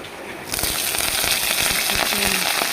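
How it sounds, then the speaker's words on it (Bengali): Onions frying in a home kitchen pan while greens are being cooked, a steady crackling sizzle that starts abruptly after a short quiet moment and continues with small pops. "ভাজি করছি, প্রথমে পেঁয়াজগুলো ভেজে নিলাম"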